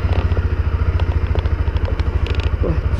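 A Honda CB Twister motorcycle engine starts and runs loud and close on a nearly drained battery, with a steady rapid low thumping pulse and some light clatter over it.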